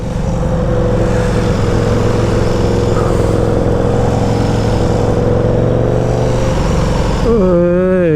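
A Super Duke motorcycle engine drones at a steady, loud pitch while riding, then revs sharply upward in rising and falling surges near the end.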